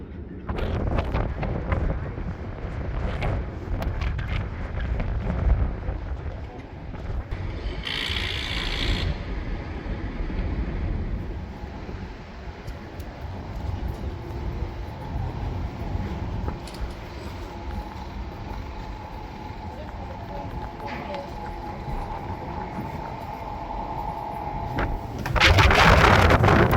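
Outdoor wind in Edinburgh buffeting the microphone in heavy low rumbling gusts for the whole stretch, with brief bursts of other noise and voices underneath.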